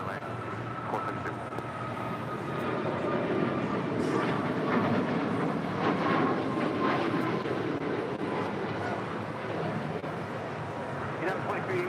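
A jet takes off from runway 25 right at LAX, a broad distant engine roar that builds and holds steady, with radio chatter and voices over it.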